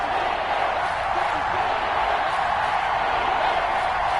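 A stadium crowd cheers in the Madden 21 football video game ahead of a big third-down play, making a steady, broad roar of noise that holds at an even level throughout.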